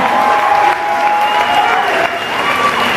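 Concert crowd at Venue 578 in Orlando applauding a hip-hop DJ, a steady, dense wash of clapping and cheering that holds loud throughout, with a sustained tone from the sound system ringing underneath.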